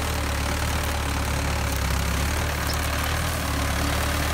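A brand new Mahindra 585 DI XP Plus tractor engine idles close by, a loud, steady diesel rumble with an even mechanical knock throughout and no talking.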